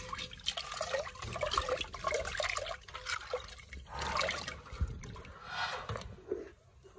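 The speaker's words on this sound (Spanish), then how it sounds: "Porque ya está comenzando a borborear, ¿verdad? Sí, ya está empezando a hervir." Rice drink beginning to boil in a pot on the stove, giving a steady bubbling, gurgling simmer with irregular pops and wet blips that rise and fall in loudness throughout, heard alone at close range.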